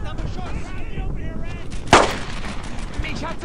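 A single sharp gunshot rings out mid-clip in the World War II shooter Brothers In Arms: Earned In Blood, standing out against a steady bed of game ambience and distant battle noise.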